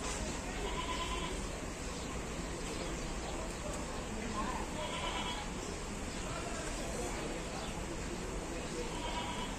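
Black Bengal goats bleat faintly at Gabtoli livestock market, with a few short calls rising out of a constant, dense wash of crowd chatter and market noise.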